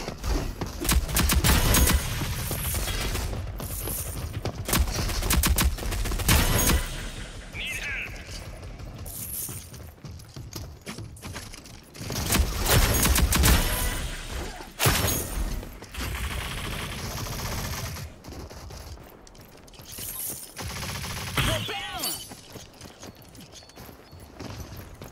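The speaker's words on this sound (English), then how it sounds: "My teammate won't stop shooting me." A teammate fires guns in the video game Rogue Company, with loud rapid bursts of gunfire and mechanical weapon clatter coming in waves, partly overlapped by a player talking.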